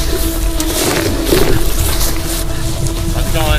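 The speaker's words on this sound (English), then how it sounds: "We'll walk down this creek for a minute." Water flowing in a creek makes a steady close rush and burble, continuous throughout, while someone walks along it and speaks over the flow.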